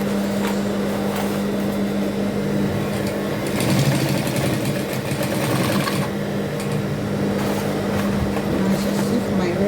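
Sewing machine stitching taping onto a bag, a loud close motor whir with rapid needle clatter that intensifies in bursts midway.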